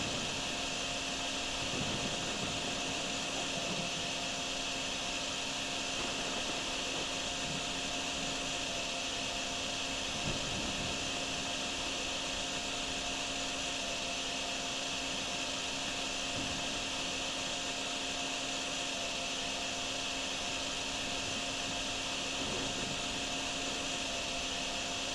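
A vacuum sucks up flood water in a flooded town, a steady loud whining roar with a constant motor hum. It runs unbroken the whole time, with faint gurgles and occasional knocks underneath.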